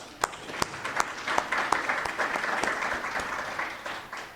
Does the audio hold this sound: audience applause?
yes